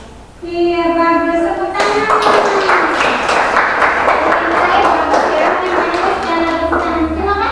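Students in a school class applaud after a short musical tone, breaking into a burst of fairly loud, close clapping that continues steadily to the end.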